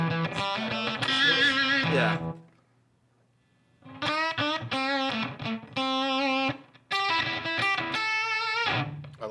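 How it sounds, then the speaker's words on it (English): A guitar played through a distortion overdrive effect gives a thick, fuzzy tone in sustained chords and riffs, broken by a short pause, with a brief spoken word. "And this is supposed to be overdrive? It said distortion."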